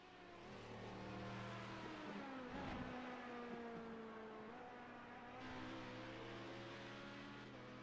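A sports car in a racing game runs down the Daytona back stretch with a faint, steady engine drone. The pitch shifts briefly partway through, then the drone settles again.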